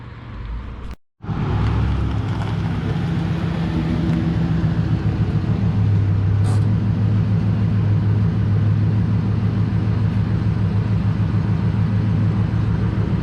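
A V8-powered car drives past and away, its engine rumbling steadily and loudly with a brief cut near the start, then a long even drone as it continues.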